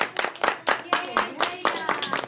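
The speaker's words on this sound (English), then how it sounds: "Let's give him a round of applause." Small group clapping for a young child at an award ceremony, close and uneven, in short bursts with voices talking over it.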